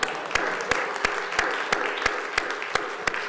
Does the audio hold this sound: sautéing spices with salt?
no